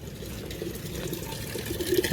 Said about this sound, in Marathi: या ठिकाणी पाणी वगैरे भरणं चालू आहे.